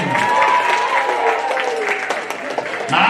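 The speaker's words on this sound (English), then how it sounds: "Round of applause, Luke Agustinaccio." Elementary school students and staff applaud at a Keys to Success assembly, sustained crowd clapping filling a hall, with talking and cheering mixed in over the steady patter.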